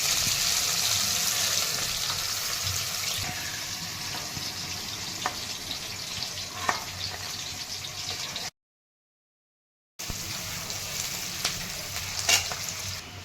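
Paneer sizzles steadily in a hot pan in a home kitchen, a dense, even frying hiss with a few faint clinks and stirs, broken by a brief silent gap before the crackle resumes.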